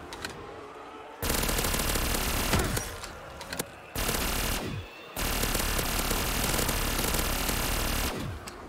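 A PPSh submachine gun blazes in Black Ops 3 custom zombies, with long, dense, loud automatic bursts broken by brief pauses.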